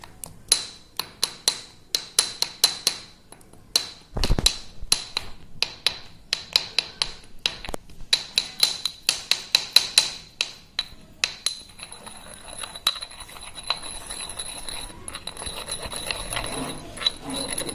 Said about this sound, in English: the more you crush, the more the outer wall gets disrupted